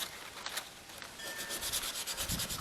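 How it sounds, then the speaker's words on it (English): Sandpaper folded by hand rubs back and forth over a rusty car wiper arm in steady, close scraping strokes that grow denser and louder toward the end, with no voices. "just start sanding"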